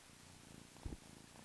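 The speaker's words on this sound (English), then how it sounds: "Can you guys hear the purring?" A small black foster kitten, the runt, curled up on someone's neck purrs in a soft, low, continuous rumble, faint and close, with one brief louder thump partway through.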